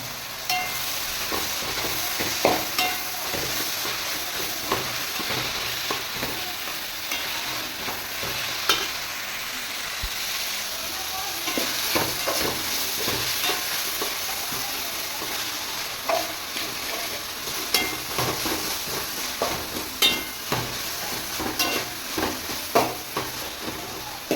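Onion and tomato sauté in a pan for vegetable biryani, with a continuous sizzle and hiss and frequent scraping stir strokes close by, and no one talking.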